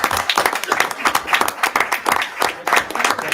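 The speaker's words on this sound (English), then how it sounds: "can I just have a huge round of applause" Attendees at a school district board meeting applaud an exemplary employee award, the clapping close and somewhat uneven, with individual hand strikes standing out in a rhythmic, pulsing patter.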